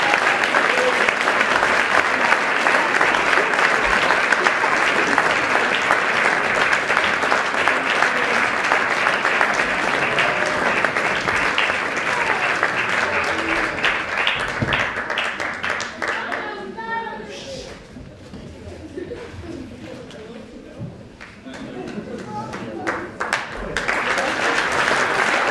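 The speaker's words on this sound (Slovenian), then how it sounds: "En velik aplavz za našo strelsko ekipo." An awards-night audience gives a big round of applause for a shooting team honoured for small-bore rapid-fire pistol, with dense sustained clapping that thins and tapers before picking up again near the end.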